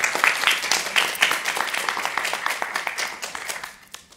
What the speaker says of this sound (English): Can we have a big round of applause for Mikko?